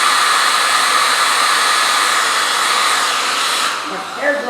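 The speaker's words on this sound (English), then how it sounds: "A hair dryer is very handy to have." A hair dryer blowing to dry paint on a canvas, a loud steady whooshing roar held close for several seconds before it cuts off near the end.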